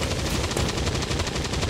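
Sustained automatic gunfire in XCOM 2: War of the Chosen, a steady rapid rattle of shots, loud and close, running without a break.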